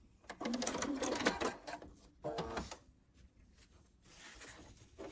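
A sewing machine stitches along a seam in two busy bursts with a short pause between, its rapid mechanical whir close and steady, then trailing off into quieter room noise.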